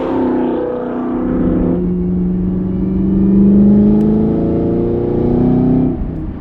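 A Camaro ZL1 with the LT4 engine accelerates hard while building boost, a loud sustained engine drone that climbs steadily in pitch, holds strong, then eases off near the end, with no one talking.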